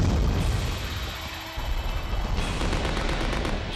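Gunfire in the Resident Evil Code Veronica X battle game, a dense burst of rapid, loud shots running nearly the whole time with a brief lull midway, no talk.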